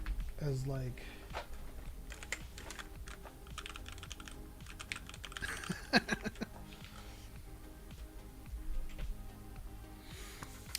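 Steady typing on a muted, thocky mechanical keyboard, a dense run of soft, rounded keystrokes with occasional heavier clusters, close up, with some faint voice or breath noise in the background.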